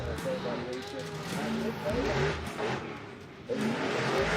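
Drift car at a Formula Drift pro qualifying event accelerates hard toward initiation with a brief dip suggesting a gear shift, engine roar rising and falling, mid-distance, with voices talking over it.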